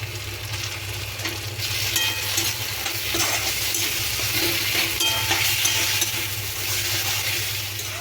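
Onion with poppy seed paste fries in a pan, giving a steady broadband sizzle with stirring scrapes throughout, alone and fairly close.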